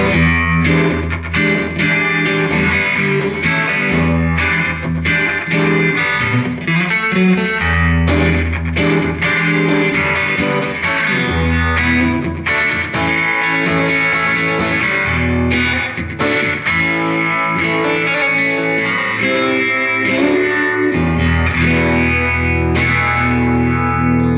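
Electric guitar through an MXR Phase 95 phaser, swirling modulation with light overdrive grit, playing chords and riffs continuously with a touch of reverb and slight slapback.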